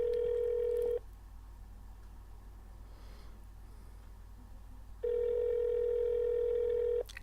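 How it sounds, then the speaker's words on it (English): Ringback tone on an unanswered phone call plays a steady ring for about a second, then about four seconds of faint line noise, then another two-second ring, all alone without voices. "Is this the longest fucking ring fucking tone to a phone ever?"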